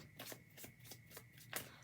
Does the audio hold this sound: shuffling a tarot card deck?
yes